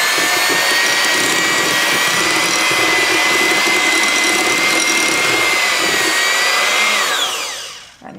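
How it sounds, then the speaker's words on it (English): An electric hand mixer beats cream cheese and butter in a bowl, a loud continuous motor whine with a steady pitch, held for several seconds before spinning down and stopping. "You just want to beat the cream cheese and butter together"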